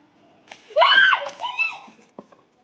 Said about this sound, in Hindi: अभी आपने जो चीखने की आवाज़ सुनी है वह हाथ से बंदरों ने प्रसाद छीन लिया है।